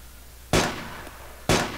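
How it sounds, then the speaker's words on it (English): Two sharp gunshots in the military video game Arma 2, about a second apart, each a loud crack with a short decaying tail over a quiet background. "They're shooting."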